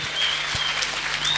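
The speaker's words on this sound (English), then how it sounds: "Thunderous applause." Applause at a university graduation ceremony as the vice-chancellor is welcomed, a soft, distant wash of clapping with one louder nearby clap and a faint steady hum beneath.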